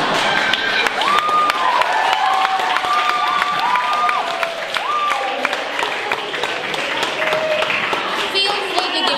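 Audience at a school public-speaking presentation clapping and cheering, a steady dense wash of applause with whistle-like tones over it, loud and continuous throughout.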